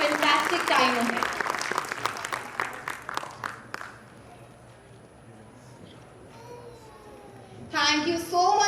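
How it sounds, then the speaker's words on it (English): Audience clapping for kindergarten children at a school annual function, brisk and fairly loud at first, thinning into scattered claps and dying away after a few seconds; a voice begins speaking near the end. "Let's applaud our little stars for their hard work and enthusiasm"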